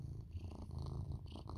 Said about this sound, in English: This fucking cat.